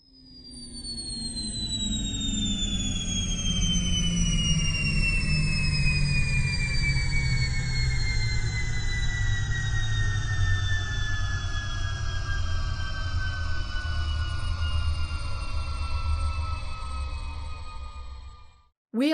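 Spacecraft engines in a planetarium show roar steadily during landing, a loud sustained low rumble under whining tones that slowly slide downward, fading out near the end.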